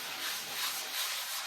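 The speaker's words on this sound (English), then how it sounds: "So sanding." Close, steady sanding of drywall joint compound: a soft, hissy rubbing that swells and fades in smooth strokes, with no voices.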